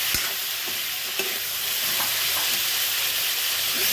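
Food sizzles and fries steadily in a pan with turmeric while a utensil stirs it, scraping and tapping softly at intervals under a constant broadband hiss.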